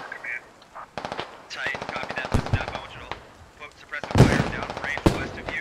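Rapid automatic gunfire in the tactical shooter game Squad, with bursts of machine-gun fire and single loud shots coming in uneven waves over several seconds, mixed with faint voices.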